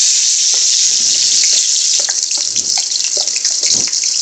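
Chopped onions tossed into hot oil with garam masala sizzle loudly and steadily, a bright frying hiss with small pops and spatters scattered throughout, no voices.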